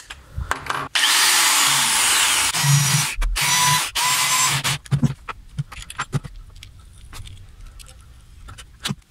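A power tool grinds down bolt heads for a guitar pickup on a 1980s G&L guitar, with several sustained loud whining bursts broken by short stops, clicks and handling noise, and no talking.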